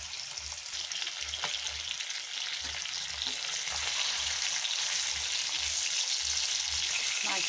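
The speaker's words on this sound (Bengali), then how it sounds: "মাছ প্রথমে ভেজে নেব।" Fish pieces frying in hot oil for a tomato chachchari, giving a constant, close crackling sizzle with soft, rhythmic low thumps throughout.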